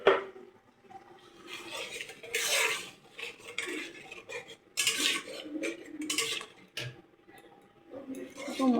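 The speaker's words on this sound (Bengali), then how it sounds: "ভালো করে মশলাটাকে কষিয়ে নিচ্ছি এর মধ্যে, তেলের সাথে, ফোড়নের সাথে।" Spice paste being stir-fried in hot oil with tempering spices in a Bengali home kitchen, cooking green jackfruit curry: a metal spatula scrapes and clatters against the pan in repeated bursts, close and fairly loud, with someone talking at times.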